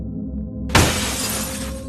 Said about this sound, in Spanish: Con un crujido aterrador, el espejo se rompió en 1000 pedazos